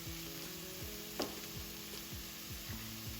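Carrot, red lentils and spices sizzle in a pot for Turkish red lentil soup, a steady close frying hiss with faint stirring scrapes and one brief clink, no voices.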